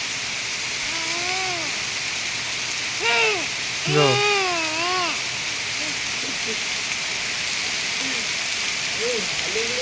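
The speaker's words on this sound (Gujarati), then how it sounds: "બહુ પડે છે વરસાદ." Heavy rain pours in a constant, dense hiss, with a few short bursts of talking and voices rising over it early on and softer sounds later.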